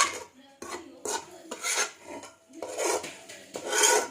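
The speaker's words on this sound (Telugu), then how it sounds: "దాంట్లోనే ఈ కారంని కూడా వేయాలి. వేసి ఇది అంతా నిమ్మవక్కలకి పట్టే విధంగా కలపాలి." Lemon pickle pieces being stirred with chili powder in a metal vessel, heard as close, repeated scraping and rubbing strokes in an uneven rhythm, with no speech over it.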